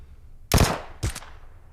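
Two quick bursts from a Vector gun in PUBG Mobile, each a tight cluster of sharp, loud shots, separated by about half a second of quiet.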